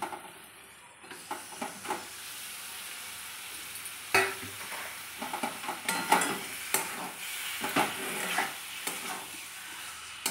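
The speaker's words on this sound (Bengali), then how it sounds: "এবার আমি এটা কষিয়ে নেবো ভালো করে। দেখো তো, মশলাটা আমার রেডি হয়ে গেছে। এবার আমি চিকেনটা দিয়ে দেবো।" Chicken being stirred into a spicy masala for a Bengali chicken kasha: repeated scraping strokes of a spatula against the pan over a bubbling, hissing fry, close and fairly quiet.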